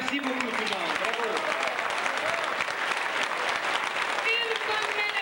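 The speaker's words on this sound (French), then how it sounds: "Une bonne main d'applaudissements pour nos artistes ce soir, Sarah and Rick." Audience applauding performers at a dance show, a loud, dense wash of clapping filling the whole stretch, with a voice speaking over it at moments.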